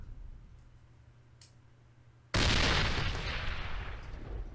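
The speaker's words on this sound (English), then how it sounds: "We're doing the grenades as well." A grenade explosion in the video game A.V.A erupts as a single loud, sudden blast after a quiet stretch, then trails off into a long, rumbling, hissing decay.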